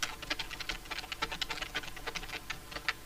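Quiet, rapid keystrokes on a computer keyboard, typing text in CorelDRAW, an uneven patter of soft clicks heard close with no voices.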